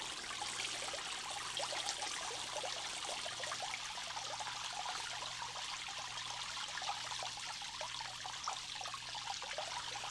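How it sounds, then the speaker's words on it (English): Water pours from the outlet of an Eheim Professional 4+ 600 canister filter held above the aquarium waterline, a steady, continuous splashing trickle that stays even and fairly loud throughout with no voices. "I'm going to leave this above the water line to show you the flow."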